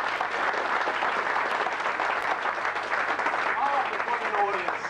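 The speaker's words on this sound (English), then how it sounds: "I think a big round of applause, ladies and gentlemen, for their marvellous attempt so far." An audience at a pantomime breaks into steady applause, a dense crackle of many hands clapping that stays even and sustained from start to finish.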